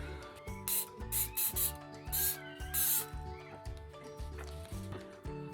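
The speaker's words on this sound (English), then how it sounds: "I'm going to spray this with my adhesive and stick it on there." Several short hissing bursts of a spray adhesive can, separated by brief pauses, over steady mechanical tones and light handling noises while mounting round sublimation keychain blanks.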